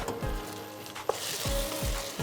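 Chopped tomatoes frying in a pan for biryani, a steady close hiss and sizzle with occasional low scraping stirs.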